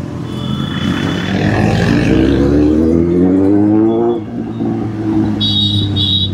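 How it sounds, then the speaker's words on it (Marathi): Motorcycles, including a Z800 and a D400, ride through road traffic, with a loud engine drone rising and falling in pitch as they accelerate, and short horn beeps near the end. "एवढं ट्रॅफिक आहे बघा."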